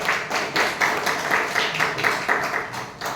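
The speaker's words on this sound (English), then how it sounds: "Please have a big round of applause." A Toastmasters club audience gives a round of applause, a dense, steady patter of clapping throughout the short burst.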